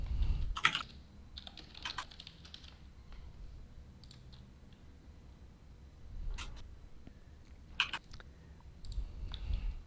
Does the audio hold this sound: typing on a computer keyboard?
yes